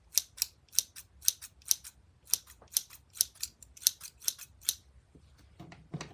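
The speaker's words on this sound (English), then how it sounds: "Which pair of the scissors sound sharper?" Crisp, rapid snips from a pair of scissors cutting in quick repeated bursts, close and clear, with a soft rustle at the end.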